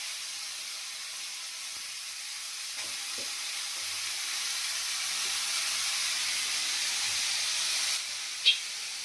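Leftover fish curry heats in a pot on a stove, giving a steady low sizzle and hiss that builds slightly, with a brief clink near the end.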